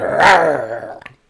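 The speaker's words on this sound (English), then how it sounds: "that's my dog attacking my wife right now" A dog growls during rough play, giving a close, loud, throaty snarl that rises and tails off over about a second, ending in a couple of short yips.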